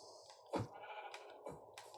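Sheep in the video game Minecraft bleating in short, clear repeated calls, two or three bleats close together against a quiet background, with no talk.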